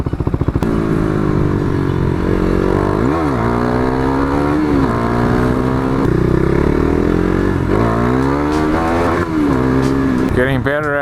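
A KTM 390 Duke single-cylinder motorcycle pulls hard in first gear for power wheelies, its loud engine note climbing and dipping through repeated rev surges and throttle chops close by, with wind rush throughout.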